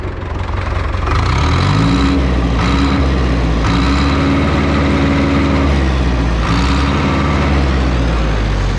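A Zetor 8011 diesel tractor engine runs loud and close, idling with a deep throb and rising in several revs before settling back.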